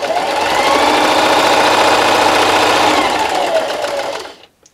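A sewing machine runs in one loud, steady, close stitching burst on a Halloween treat bag, then winds down and stops near the end.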